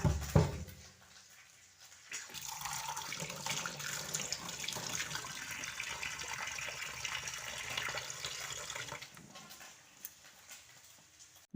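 Tap water runs into a sink to soak dishes, a steady close splashing stream lasting most of the clip after a brief clatter at the start, then cutting off near the end, with no talking.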